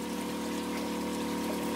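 Water pours steadily out of the outflow pipe of an aquaponic fish tank, a constant gushing rush with a pump-like hum underneath, close and unbroken, no voices.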